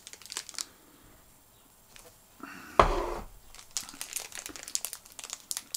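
Cellophane wrapping on short Robusto cigars crinkles close up in a few bursts, with one louder rustle midway and lighter handling crackles around it.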